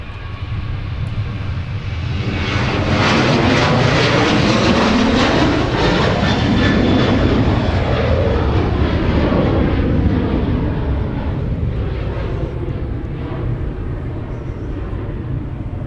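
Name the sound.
jet airliner departing MSP airport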